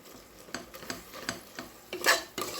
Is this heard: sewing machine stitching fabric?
no